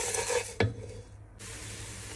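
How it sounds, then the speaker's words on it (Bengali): Moong dal lightly frying in a pan, a soft hiss with a single sharp clink of utensil against the pan partway through, then a quieter steady sizzle. "ডালটাকে হচ্ছে হালকা একটু ভেজে নিলাম"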